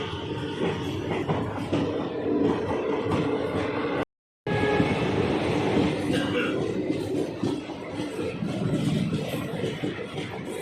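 The Corbett Park Link Express pulls out of Gandhinagar railway station near Jaipur with a steady, loud rolling rumble and rattle of wheels on track, briefly cut off by a moment of silence.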